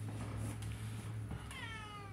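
A tabby cat meows for food, one drawn-out, rising and falling cry close to the listener, heard alone over a low steady background hum.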